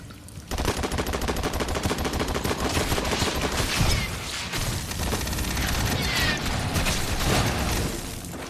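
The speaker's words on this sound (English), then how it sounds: "sentry guns ahead" Sentry guns in the video game Aliens: Fireteam Elite firing continuous rapid automatic bursts, loud and sustained over several seconds, with faint voices in the background.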